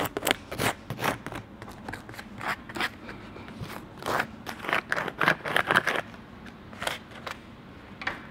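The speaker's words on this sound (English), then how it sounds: "Now that we've squeegeed the tape down, we have an airtight seal with the pressure sensitive tape" Pressure-sensitive tape being squeegeed down over a circumferential joint on fiberglass duct, a steady run of close, crackly scraping strokes with short rhythmic rubbing bursts throughout.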